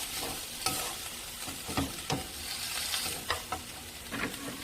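Sweet potato stems are stir-fried in a pan, a close, steady sizzle with repeated sharp scraping and tossing strokes of the spatula, and no voices.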